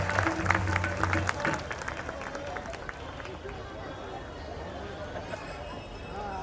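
An audience at a nighttime Ram Leela stage performance claps, starting with a loud burst over a voice on the loudspeaker and settling into steady crowd applause and babble.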